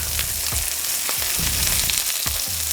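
Spinach and artichoke sizzle with linguine in a hot pan as a spoon stirs, producing a continuous frying hiss punctuated by several rhythmic scraping strokes close by.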